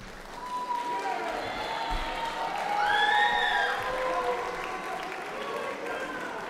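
An audience claps at an academic excellence awards ceremony, a steady wash of applause from the crowd that swells in the middle and holds throughout, with a voice speaking over it.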